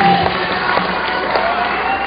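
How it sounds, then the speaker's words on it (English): A crowd at a women's World Cup bouldering final in Vienna cheers steadily for a climber, a continuous roar of voices with scattered whoops, moderately loud and somewhat distant. "Crowd right behind Mina."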